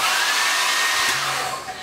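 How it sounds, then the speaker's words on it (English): A hotel blow dryer runs continuously at close range, giving a loud, steady airy whoosh with a motor whine that stays unbroken throughout. "I'm using like a regular like blow dryer. This is actually like one of those hotel blow dryers."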